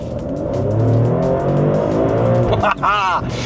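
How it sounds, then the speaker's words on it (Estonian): Maserati Grecale Trofeo SUV in Corsa mode, its engine note rising loud and close under acceleration inside the cabin before dropping off, with a person speaking briefly near the end. "mis proovisõit see oleks, kui me siis kõige võimsamat Corsa režiimi ei prooviks?"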